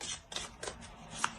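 Tarot cards being shuffled by hand, a few quick soft riffling swishes close up and quiet, without speech.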